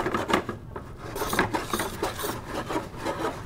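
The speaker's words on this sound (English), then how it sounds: "We're gonna start slowly folding in Parmesan cheese" Parmesan cheese and starchy pasta water being slowly folded through pasta for cacio e pepe, giving a steady, close, wet scraping and rubbing of utensil against pan in repeated strokes.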